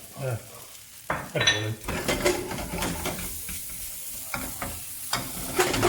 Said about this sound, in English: give all that a good mix up